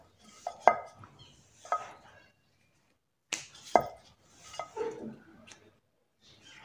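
Black peppercorns pounded for urad dal masala papad, a handful of sharp knocks in small irregular clusters with quiet gaps, close and clear with no talk.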